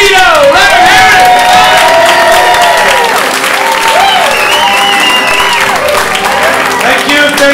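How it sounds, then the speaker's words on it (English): A comedy club audience gives loud, sustained applause with cheers and whoops for a comedian, continuous and dense throughout, with voices shouting among the clapping. "How about a big round of applause for Dominick Azevedo?"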